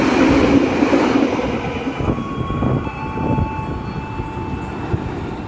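The Brawijaya train, running Gambir to Malang, rumbles past close by with a steady rolling roar, clattering wheels and faint high squealing tones, loud and continuous without voices.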